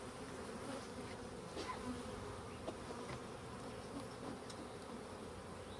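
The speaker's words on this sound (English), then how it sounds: "Bees, they get agitated." Steady, dense buzzing of many agitated honey bees close by, a continuous droning hum with no pauses and no voices.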